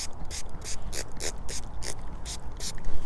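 A Nikwax pump-action spray bottle sprays a boot with about ten quick, evenly spaced hissing bursts in a brisk rhythm, close and clear.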